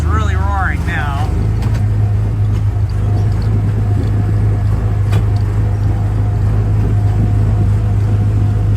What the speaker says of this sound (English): The engine is really roaring now.